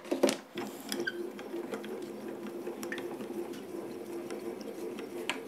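A manual die-cutting machine is cranked by hand with a craft die for a snow globe card. It makes a steady, close mechanical rumble and rolling grind with small clicks and ticks, continuing for several seconds with no talk.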